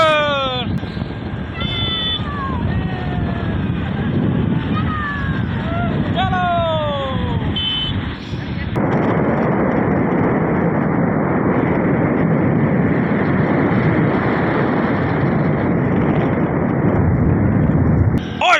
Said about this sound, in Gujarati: दो ट्रैक्टर बिना ड्राइवर के चले जा रहे